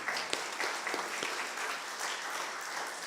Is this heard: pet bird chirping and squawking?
no